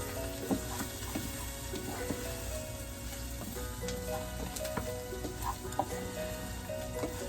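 Chicken frying in a pan for a chicken and rice pilaf, stirred as it cooks, with a steady close sizzle and scattered light scrapes and pops throughout.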